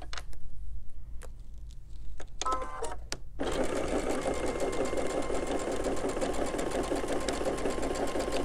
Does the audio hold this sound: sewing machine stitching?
yes